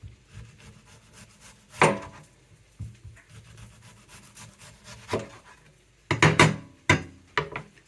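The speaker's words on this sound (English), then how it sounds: "So we'll just watch the chef here slice an onion" A chef slices an onion into rings on a wooden board, several sharp knife chops landing near and clear, spaced unevenly and bunching into a quick cluster toward the end.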